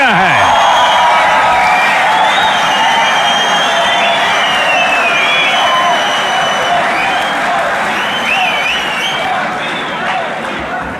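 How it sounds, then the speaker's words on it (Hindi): A large audience at a community reception in Berlin bursts into sustained, loud applause and cheering, dense clapping with whoops and shouts rolling on steadily throughout. "तालियां तो अब बजने वाली है।"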